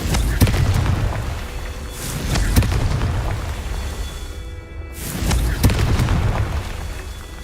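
Confringo fire spell explosions in Hogwarts Legacy go off as a series of loud, punchy booms with crackling bursts, in two dense waves split by a brief near-silent gap.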